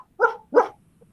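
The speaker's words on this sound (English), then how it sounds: "Like dog noises?" Two quick barks from a small dog, close and clear, with a brief gap between them and silence around them.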